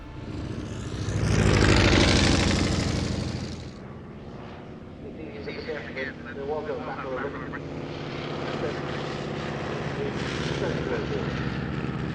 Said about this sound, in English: And kicking off the flying there is the Great War Display Team.